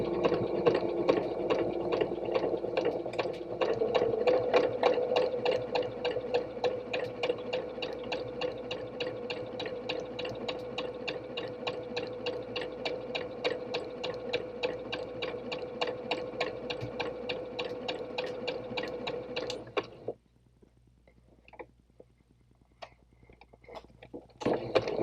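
A sewing machine stitches pieces of fabric in a long, steady, fast run of close mechanical ticks, stopping suddenly near the end for a few seconds of quiet before a brief restart; no talking.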